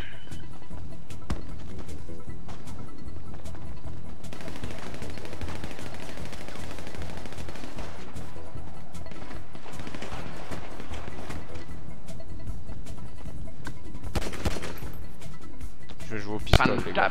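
Pistol gunshots in a shooting video game, scattered bursts of sharp cracks repeating at irregular intervals amid steady game background noise, with someone talking over them.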